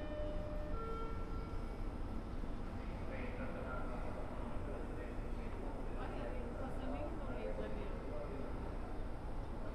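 Low, steady rumble and hum inside a brand-new passenger train riding from São Paulo to Guarulhos International Airport, constant throughout with faint squeaks and rattles layered on top.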